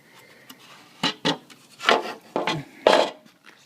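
Someone cleans out the valve cover gasket groove on a 1997-2003 BMW E39 5-Series engine. A series of short, close rubbing and scraping strokes comes in an uneven rhythm, with no voices.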